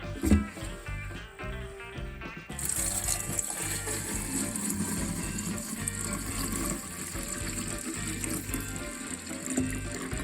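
Liquid gushing out of a Mini car part, a continuous splashing pour heard close, starting after a few seconds of louder clatter and running steadily to the end.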